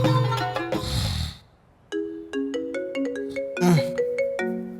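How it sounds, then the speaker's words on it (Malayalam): A mobile phone ringtone rings in a room early in the morning, a loud repeating electronic melody of bright tonal notes with short pauses, playing alone with no talk. "കുറെ നേരം ഫോൺ അടിക്കണം"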